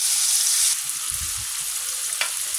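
Potatoes fry in a pan with a bright, hissing sizzle that fills the short moment, joined by a couple of soft low bumps and a quick metallic tap near the end.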